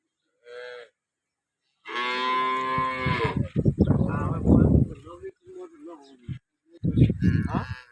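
A short moo, then a long, loud dairy cow moo close up, in Tharad, Banaskantha, followed by people talking, with another brief lowing sound near the end.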